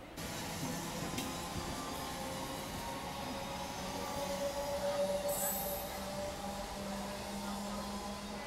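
A train pulls out of Barang railway station and rolls along the rails with a steady rumble, quiet and even, with a faint squeal of wheels rising briefly.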